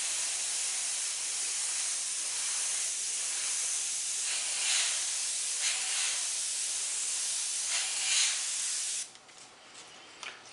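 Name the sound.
airbrush spraying paint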